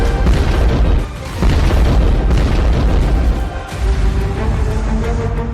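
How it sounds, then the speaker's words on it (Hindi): A blast on the Kerch Bridge comes across as loud, heavy booming rumble, with sustained roaring noise and brief dips between surges. "जब रूस के इस पुल पर धमाका हुआ था।"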